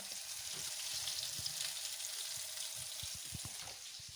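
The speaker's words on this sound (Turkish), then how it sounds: "Patlıcanlarım da bir yandan kızarıyor." Eggplants frying in oil in a pan give off a steady, fairly quiet hiss with scattered pops and crackles, constant throughout with no voices.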